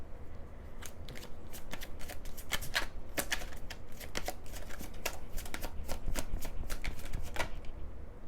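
A deck of Twin Flame Journey Oracle cards is shuffled, a quick run of crisp riffling and flicking snaps, close and fairly quiet, with no talking.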